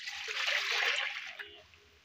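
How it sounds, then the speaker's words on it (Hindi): Milk pours into a kadhai, a wok-like pan, in a brief gushing stream that tapers into a soft trickle before stopping. "सबसे पहले हम एक कढ़ाई में दूध डालेंगे।"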